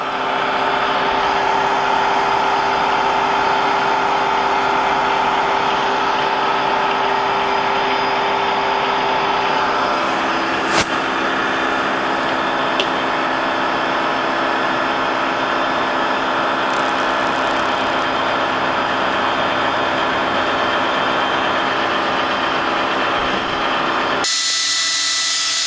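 A machine tool takes a fifty-thousandths cut on metal with a loud, continuous high whine and grinding hiss, holding steady for over twenty seconds with a slight shift in pitch midway and a brief change right at the end.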